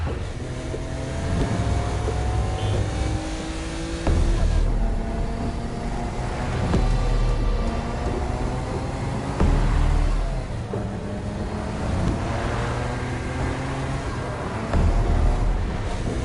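A car engine drones steadily with wind rush in Saints Row: Gat Out of Hell, loud and continuous with periodic pulses in the roar.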